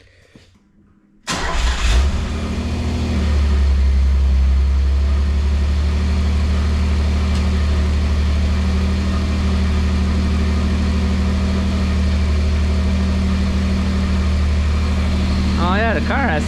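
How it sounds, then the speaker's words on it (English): Car engine cranking and catching, then settling into a steady, loud idle that runs on without change, with a voice speaking briefly over it toward the end. "Do you think the car has to be started?"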